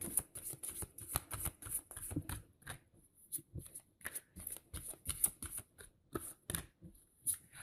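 Tarot and oracle cards shuffled by hand in a series of crisp, rapid riffling bursts separated by short pauses, close and fairly quiet, with no talking.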